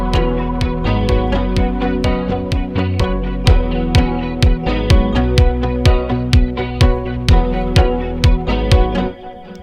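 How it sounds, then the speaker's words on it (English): A four-on-the-floor electronic drum pattern programmed in music production software: evenly spaced punchy kick hits with sharp transients over sustained layered tones, ending abruptly near the close. "Maybe we could do 4 on the floor."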